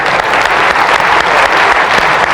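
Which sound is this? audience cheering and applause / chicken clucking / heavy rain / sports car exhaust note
audience cheering and applause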